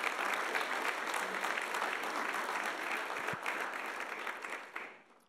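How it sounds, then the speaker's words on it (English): Sustained audience applause at a college athlete of the year awards ceremony, a dense, steady wash of many hands clapping that holds strong for several seconds before tapering off at the end. "Let's give them a great round of applause."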